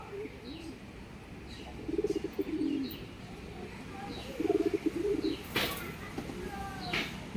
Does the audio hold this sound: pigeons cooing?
yes